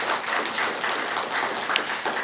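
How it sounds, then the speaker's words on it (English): An audience gives a presenter a round of applause at a gender affairs department session on budgeting, a steady wash of many hands clapping throughout. "Let's give him another round of applause."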